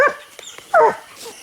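Hunting dogs bark at a tree holding a raccoon during a night hunt, giving a few sharp barks and yips at mid distance, with a louder bark burst partway through and quieter gaps between.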